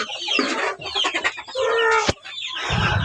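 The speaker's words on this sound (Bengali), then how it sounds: "এই যে দেশি মুরগি আর এই হচ্ছে টাইগার মুরগি" Several local desi and tiger chickens clucking loudly and close by in quick, overlapping bursts, with a few sharper squawks mixed in.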